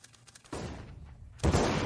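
AWP sniper rifle fire in a CS:GO match comes as two heavy, close, cracking shots about a second apart, each leaving a short tail. Faint background game noise sits between the shots.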